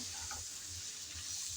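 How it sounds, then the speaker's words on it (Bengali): Okra frying in a pan with spices while being stirred, giving a steady soft sizzle with faint scraping and stirring noises throughout. "সব মশলা দেওয়ার পর আবারও নেড়েচেড়ে ভালোভাবে ভেজে নেব।"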